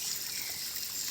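Water trickles steadily from a clean drinking-water source fed from the woods on a Filipino farm, a soft continuous hiss with no voices.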